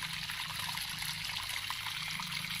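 Waterfall stream on Havelock Island murmuring and trickling steadily, a continuous soft rush of flowing water heard alone throughout.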